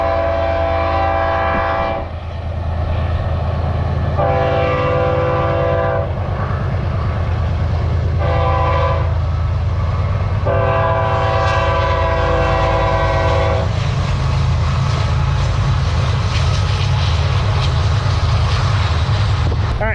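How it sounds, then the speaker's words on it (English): A train rumbles past at close range with a deep, continuous roar, its horn sounding in several long blasts separated by short pauses, then the rolling rumble carries on alone. "got a train coming from the other direction on the same track now"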